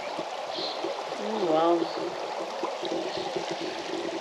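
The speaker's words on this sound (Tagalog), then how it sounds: "Sa may sapa, oh. Napaka-clear at saka yung tunog." A clear forest stream in America flows with a steady, soft rushing and trickling under a brief excited exclamation from a person nearby.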